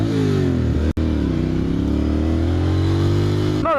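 A 2001 Ducati Monster 600 motorcycle with a loud aftermarket exhaust holds a deep, steady engine roar close to the mic, briefly cut near the start and rising into a throttle rev at the end.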